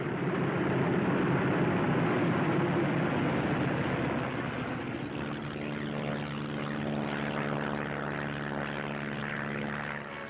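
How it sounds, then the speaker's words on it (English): Military aircraft taking off from an Aleutian airfield on bombing flights during 1943, a loud continuous propeller engine drone that shifts into a steadier buzzing hum as the plane climbs away. "Often on good days, a first flight takes off in the sunrise, others following at regular intervals, so that Kiska's under bombardment every hour until nightfall."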